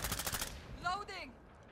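A quick burst of automatic gunfire in Call of Duty rattles up close for about half a second, then gives way to a pained grunting voice reacting to being hit.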